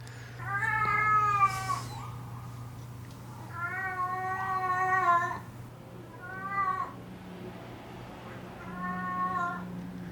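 A cat meows four times in drawn-out, wavering cries, each rising and falling, close and fairly clear over a steady low hum, with pauses between calls.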